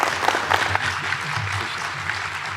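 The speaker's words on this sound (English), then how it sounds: "I want to give him a please warm welcome of applause to have him join us." An audience at a health policy conference applauding as the closing speaker is welcomed, a dense, loud burst of clapping throughout that eases slightly toward the end.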